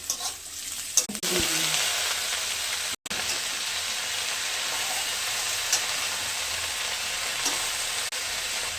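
Cabbage and potato frying in a pan with dried chilli and ginger give a loud, steady sizzle that continues almost unbroken, with a brief dip partway through and no talking.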